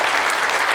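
A crowd at a city council Black History Month celebration claps, a brief burst of dense, loud applause filling the room.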